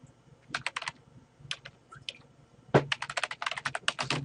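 Quick bursts of keystrokes on a computer keyboard as a web address is typed, with a short pause and then a denser, steadier run of clicks near the end, close and clear with no voices.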